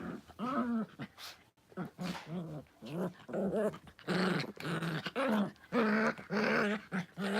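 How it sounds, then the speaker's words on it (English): Two dogs fighting at close range, with repeated harsh snarls and growls in short bursts, some higher whining yelps mixed in, and brief gaps between the outbursts. "My dogs are already fighting."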